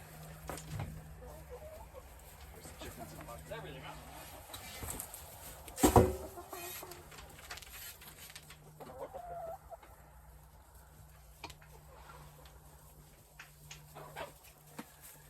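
Chickens cluck softly around the nest boxes at a backyard farm, a low scattered chatter with one louder burst near the middle, other farm noises faint in the background.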